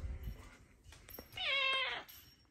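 A cat meows once, loud and close, with a drawn-out, wavering cry after some faint shuffling and handling noises.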